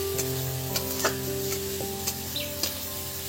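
Onions fry in a pan for ghugni, giving a steady loud sizzle with occasional clicks of stirring against the pan and a constant background hum.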